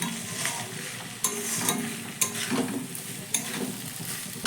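Ivy gourd (kundri) curry with garam masala is stirred in a frying pan, a continuous close sizzle punctuated by several sharp scrapes of the spoon against the pan at irregular intervals.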